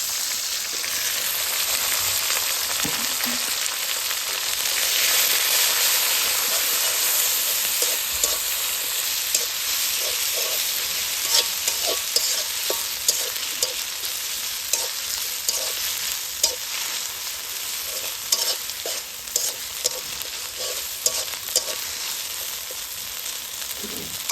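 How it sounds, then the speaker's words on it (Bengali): Ginger, garlic paste and onion frying in a pan give off a steady, close sizzle, broken by repeated scrapes and clicks of stirring that grow busier toward the end, with no voices. "আদা রসুন পেঁয়াজ ভাজা ভাজা হয়ে গেছে"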